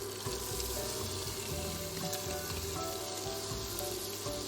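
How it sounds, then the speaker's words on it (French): Blanched lardons, carrots and onions sizzle gently in butter in a pan, a steady, loud, close frying hiss with no talking. "Ajoutez les lardons blanchis et les faire fondre tout doucement en évitant de faire colorer le beurre."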